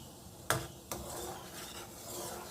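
Boiling raw mango is stirred with a ladle: two sharp metallic knocks against the pot, then a steady bubbling hiss with soft scraping, no talk.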